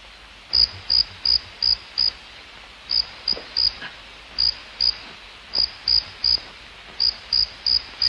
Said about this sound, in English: That's not in your head, sir. That's a cricket.